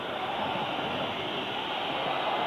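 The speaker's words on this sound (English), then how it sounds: "Whistles from the home crowd." Home crowd at the Inter Milan versus Norwich City UEFA Cup third-round football match in 1993, a broad, steady wash of whistling and crowd roar from a large stadium, sustained and distant-sounding throughout.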